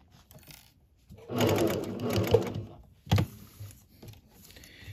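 Sewing machine stitching a fabric tab onto a kitchen hanging towel, a close burst of rapid mechanical whirring for about two seconds followed by a brief second run, with quiet handling noises between.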